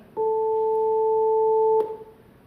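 Two pure sine waves added together make a steady electronic tone with a low and a higher pitch held evenly for about a second and a half, then cut off abruptly with a short fading tail.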